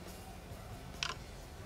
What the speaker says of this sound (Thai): และตอนนี้เสียงล็อกจอก็เป็นแบบใหม่แล้วนะครับ